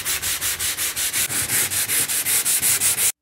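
Hand sanding of drywall plasterboard and filler joint compound, a steady run of about fifteen rhythmic back-and-forth scraping strokes, loud and close, with no talk.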